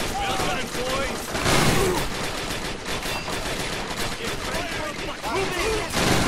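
Rapid suppressive gunfire in the World War II game Men of War Assault Squad 2, with machine guns and rifles firing in dense, continuous bursts amid battlefield noise and shouted voices throughout.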